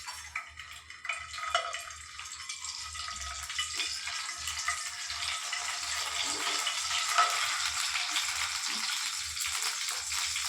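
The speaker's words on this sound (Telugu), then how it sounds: "ఆ గుడ్డల్ని ఇప్పుడు ఆయిల్లో వేసి ఫ్రై చేస్తాను." Boiled eggs frying in hot oil in a pan, a steady soft sizzle with faint stirring ticks and light utensil clicks, continuous and close with no talking.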